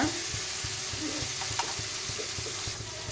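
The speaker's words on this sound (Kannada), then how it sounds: "ಕ್ಯಾಪ್ಸಿಕಮ್ ಇಷ್ಟು ಚೆನ್ನಾಗಿ ಫ್ರೈ ಮಾಡ್ಕೋಬೇಕು." Capsicum fries in a pan for a mutton dish: a steady sizzle with faint scraping from stirring, close and continuous, without speech.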